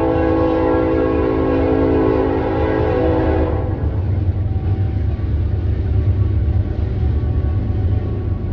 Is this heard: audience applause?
no